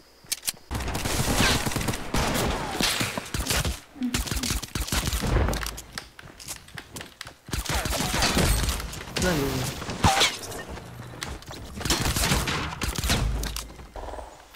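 Fortnite video game gunfire, with repeated sharp shots and bursts mixed with thuds and crashes, loud and busy throughout, while voices talk excitedly over the action.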